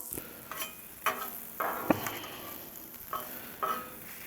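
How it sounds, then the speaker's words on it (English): Small shrimp sizzle steadily on a Blackstone griddle while a metal spatula scrapes and taps as they are tossed, several sharp clicks standing over the frying hiss. "Let's give this shrimp another toss here."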